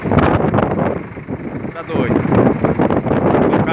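Strong wind roars and buffets across the microphone in Mato Grosso while limestone is unloaded from a tipping truck body, rising and falling in loud gusts as someone speaks briefly.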